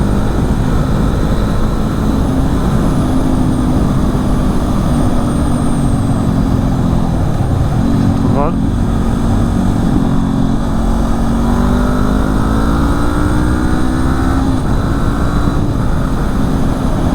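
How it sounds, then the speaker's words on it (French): Motorcycle exhaust note while riding on a road, a loud continuous engine drone with gear-related pitch shifts and constant wind rush, no voices. "tu dois bien entendre mon pot aussi là"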